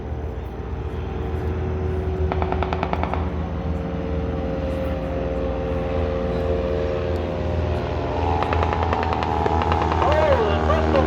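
Vintage triplane and Bristol Fighter biplane droning through the sky in a mock dogfight, with a continuous loud engine roar rising and falling and brief clattering bursts, under a voice talking over it.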